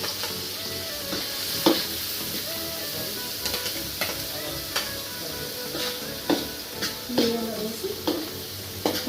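Spices frying in a pan over a medium flame for a Nellore-style fish curry, with a soft constant sizzle and occasional sharp clinks and scrapes of a spoon stirring against the pan, under someone speaking briefly.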